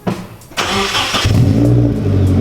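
A Nissan 240SX engine cranks briefly, catches and settles into a loud, rumbling idle close by.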